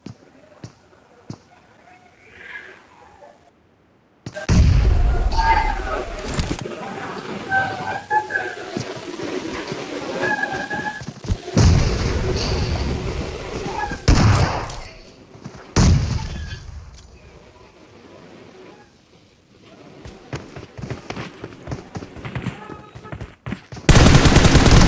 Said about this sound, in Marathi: मी पण 4-5 गोळ्या मारल्या भाई तुला.